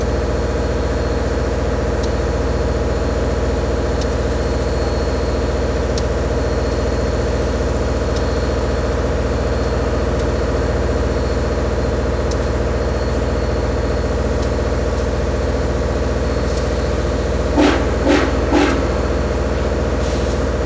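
Locomotive 630 rumbles steadily in reverse as it moves back to couple onto its train, a loud, continuous low engine drone with a few brief sharper bursts near the end.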